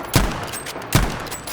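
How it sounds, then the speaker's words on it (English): Two sharp gunshot bursts from a Type 11 light machine gun in Battlefield V, spaced under a second apart, each a loud punchy crack with a short rumbling tail, no talk. "For number 5, we have the Type 11 LMG."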